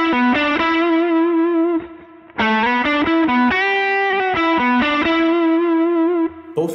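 An overdriven electric guitar plays a melodic phrase with bending, sliding pitches and a quick trill, a short pause splitting the line, loud and close.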